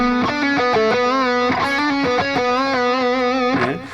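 Electric guitar with distortion plays a solo phrase, a string of quick hammered notes with wide vibrato on held tones, loud and close, tapering off at the end with no talk.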